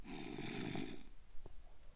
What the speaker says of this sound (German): Oh, der schnarcht aber einer laut.